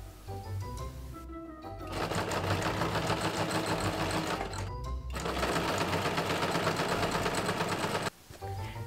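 A sewing machine stitches bias tape channels on a short hoop skirt, running loud and close in long steady bursts broken by two brief pauses before stopping.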